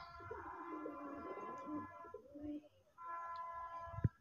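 Repeated low, throaty cooing of a male red Golla pigeon, close by, with rolling phrases and a brief pause before a final coo and a soft thump.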